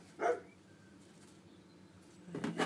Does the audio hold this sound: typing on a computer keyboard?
no